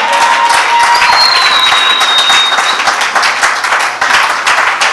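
A church congregation applauds with loud, steady clapping that fills the room throughout, and a thin high tone glides through the clatter for a moment.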